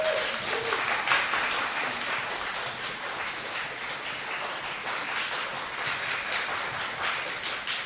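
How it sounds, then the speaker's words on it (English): A recital audience applauds in a steady, dense wash of clapping that holds at an even level for the whole stretch, with no pause or lull. "Let's give her all a big round of applause"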